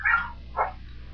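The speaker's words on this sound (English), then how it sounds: "excuse my dog, somebody must be coming." A dog indoors gives two short, loud barks in quick succession, close by, with no talking.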